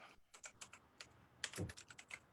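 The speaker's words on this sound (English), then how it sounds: "I'm typing." Someone types on a computer keyboard in quick irregular bursts of light clicks with short pauses, faint and close, with no speech over it.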